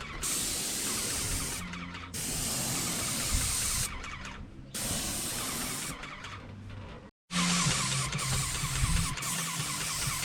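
A paint sprayer hisses loudly and steadily while coating a house exterior, running in long close bursts separated by brief pauses, with a short silent gap near the end.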